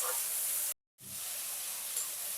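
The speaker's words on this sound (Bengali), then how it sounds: "টমেটোটা একটু ভেজে নেব, যতক্ষণ না টমেটোটা নরম হয়ে আসবে ততক্ষণ এটাকে একটু ভেজে নেব" Tomato frying in a pan for a vegetarian jackfruit curry, a steady close sizzling hiss with a brief silent break before the sizzle resumes.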